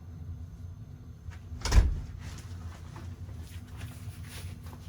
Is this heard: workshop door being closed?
yes